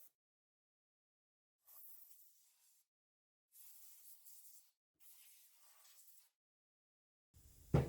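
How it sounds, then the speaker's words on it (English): Short bursts of canned air hiss in three separate sprays into an HP 15-f387wm laptop, with pauses between, fairly quiet, followed by a brief louder knock at the end. "we're going to take some canned air and spray it"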